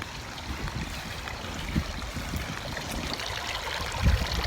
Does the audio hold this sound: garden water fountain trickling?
yes